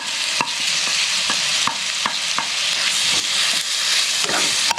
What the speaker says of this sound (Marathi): ओलं वाटण जे घेतलेलं आहे ते आपण ह्याच्यामध्ये प्रथम फ्राय करून घेणार आहोत.